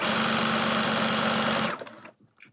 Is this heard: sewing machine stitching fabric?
yes